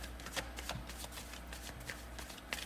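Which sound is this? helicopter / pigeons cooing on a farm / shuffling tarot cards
shuffling tarot cards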